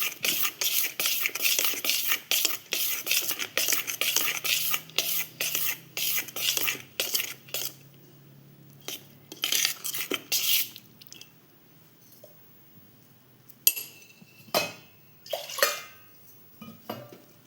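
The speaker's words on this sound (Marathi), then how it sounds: "आता आपण एकत्र करून घेऊया." Ground rice and dal batter for amboli being mixed with water in a vessel: a spoon clatters and scrapes against the pot in quick repeated strokes, then slows to sparse, quieter clinks and knocks.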